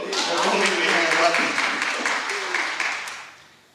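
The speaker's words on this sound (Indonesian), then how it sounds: "Kasih tepuk tangan dulu dong." An audience claps during a church youth talk, with a brisk wash of applause that builds, holds, then tapers off toward the end, mingled with voices.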